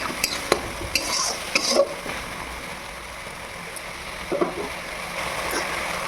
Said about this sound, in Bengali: এই যে মশলাটা করে রেখেছিলাম এটা দিয়ে দেবো, দিয়ে ভালো করে নাড়াচাড়া করে নিতে হবে